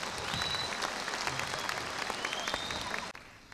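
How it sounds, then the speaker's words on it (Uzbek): Studio audience at an Uzbek comedy stage show claps steadily in a dense, sustained burst that cuts off sharply near the end, leaving a brief quieter tail. "Chiroyli qarsaklaringiz bilan."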